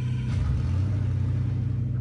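Race car in Assetto Corsa Competizione with its ignition switched on and engine running, a steady low mechanical rumble that holds evenly throughout, close and continuous with no voices.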